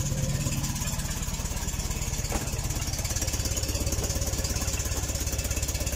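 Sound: small car engine idling

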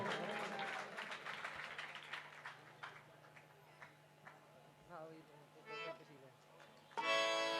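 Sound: audience clapping

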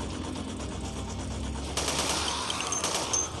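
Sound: gunfire from shooting in the video game Dead Effect 2

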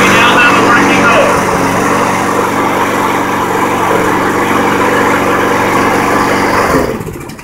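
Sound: small lawn mower engine running after repair

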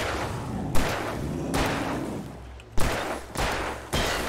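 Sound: gunshots in bullet time, Alan Wake Remastered video game

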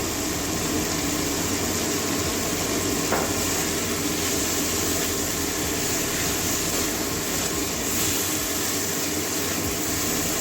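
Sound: frying fish curry ingredients in a pan

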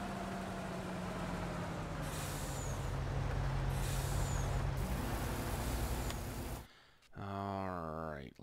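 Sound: truck air brake in Farming Simulator video game

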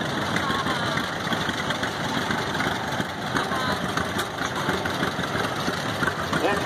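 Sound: 1936 John Deere BI tractor engine running

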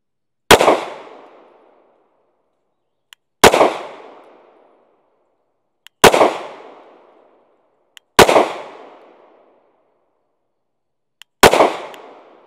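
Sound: gunshots, five rounds fired at target

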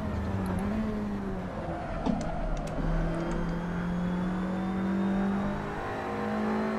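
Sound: race car engine accelerating in a racing video game

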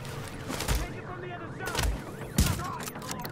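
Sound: rapid gunfire from a weapon in the video game Tom Clancy's The Division

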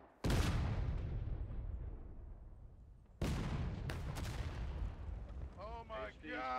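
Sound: cannon firing in video game War of Rights

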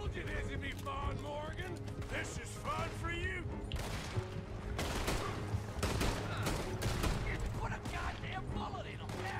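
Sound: gunfire in the video game Red Dead Redemption 2

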